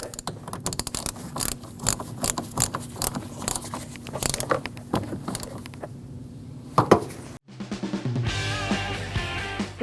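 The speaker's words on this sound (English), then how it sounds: "tighten that 10mm bolt." A ratchet tightens a 10mm bolt on the intake manifold of a 2014–2023 Jeep Cherokee, rapid repeated clicking bursts up close, followed by a cut to a different sound.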